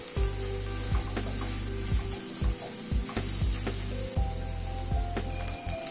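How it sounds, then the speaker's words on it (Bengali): Ginger paste and green chilies sizzle in a hot pan while being stirred, a constant close frying hiss broken by repeated scraping strokes of a spatula and a steady low hum underneath. "আদা আর কাঁচা লঙ্কাটাকে দিয়ে আবার একটু নাড়াচাড়া করে নিচ্ছি।"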